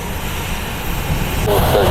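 An Embraer Phenom jet inbound at Columbus airport gives a broad, rumbling engine roar that swells toward the end, with a voice speaking over it.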